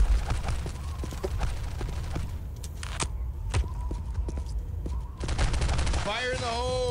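Heavy gunfire in Postal 2 Paradise Lost, with bursts of shots and clattering impacts, a short lull, then more firing, while voices and game effects run underneath.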